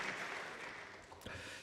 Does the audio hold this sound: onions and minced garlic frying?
no